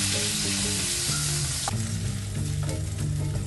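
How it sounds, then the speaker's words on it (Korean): Korean mushrooms searing in butter in a frying pan, with a loud, dense sizzle and some crackle running throughout at close range. No one talks. "버터를 프라이팬에 두르고 버섯을 굽습니다"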